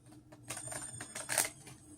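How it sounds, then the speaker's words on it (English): A deck of playing cards shuffled by hand during a card trick, a few quick soft riffling bursts and flutters, close and fairly quiet, with no talking. "then you pick that pile up again, and you just shuffle them"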